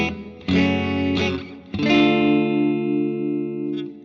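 Electric guitar, distorted and washed in chorus and reverb, strums a major chord progression that passes through a minor four chord, three loud sustained chords with the last one ringing out alone.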